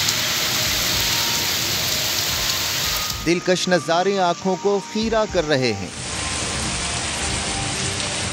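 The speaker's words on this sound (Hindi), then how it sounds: "एबटाबाद, नथिया गली, अयूबिया, ठंडियानी और इर्द गिर्द के इलाकों में वक्फे वक्फे से मेघा बरस रही है।" Intermittent rain falls over hill areas around Abbottabad, Nathia Gali, Ayubia and Thandiani in Pakistan, a steady hiss of rainfall that drops away while someone speaks in the middle and then returns.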